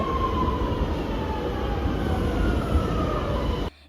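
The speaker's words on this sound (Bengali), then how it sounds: "এখন আমরা যে রাজার বাড়ি যাব সেখানে যাওয়ার জন্য আমরা মেট্রো রেল স্টেশনে আসছি মেট্রো দিয়ে যাব" Metro train at a metro rail station, a loud steady roar of moving carriages with a rising whine, continuous and near until it cuts off abruptly at the end.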